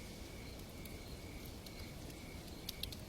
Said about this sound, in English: The cicadas and the owls and other nighttime animals.